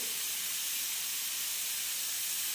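A pressure cooker holding two potatoes gives off a steady, loud hiss of steam that runs unbroken from start to finish, with no voices over it.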